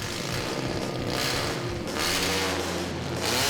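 The engine of a Mazda Miata converted into a watercraft revs up and down in surging waves as its throttle is tested, a loud close droning roar.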